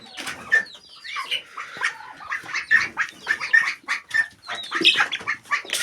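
Chickens on a farm, one of them seemingly sick and puffed up, cluck and chatter in repeated short bursts close by, with a lively, uneven rhythm and no talking.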